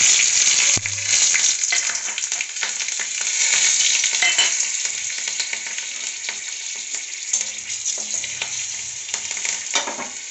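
Nigella seeds, dried chilli and turmeric hit hot mustard oil for a bottle-gourd peel fry, bursting into a loud, close sizzle. Scraping stirs and a few clinks follow as the hiss slowly eases, with no talking.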